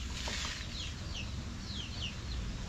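A Rhode Island hen on a farm, with clucks and chirpy calls set against a loud, constant background hiss and rumble of farm ambience.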